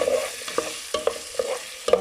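Food sizzles in a covered-pot saucepan over low heat while a utensil scrapes and stirs in quick, repeated strokes, close and steady.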